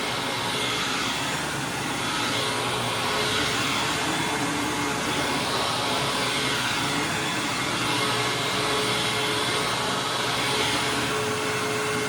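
Vacuum cleaner running steadily for the whole stretch, a loud continuous whooshing roar with a faint whine, close and unbroken, no talk.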